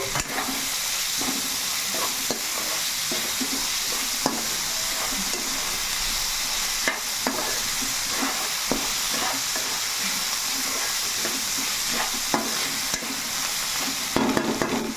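Cucumber pieces frying with a stone-ground spice paste in a pan, a steady close sizzle running throughout with repeated scraping and stirring clatter, no voices.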